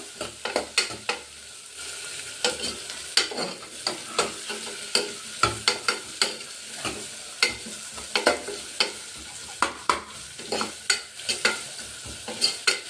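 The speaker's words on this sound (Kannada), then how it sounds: "ದಪ್ಪ ಈರುಳ್ಳಿ ಉದ್ದಕ್ಕೆ ಹಾಕ್ಕೊತಾ ಇದ್ದೀನಿ. ಈರುಳ್ಳಿ ಸಹ ಚೆನ್ನಾಗಿ ಫ್ರೈ ಆಗಬೇಕು" Sliced onion fries in a pan for palak rice, a steady sizzle broken by frequent sharp scrapes and clatters of a spoon stirring against the metal, close and fairly loud with no voices.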